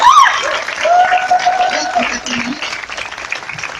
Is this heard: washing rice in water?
no